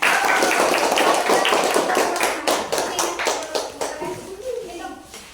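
A school classroom claps for a classmate, a burst of many hands clapping loudly and close, thinning into scattered, separate claps as it fades out.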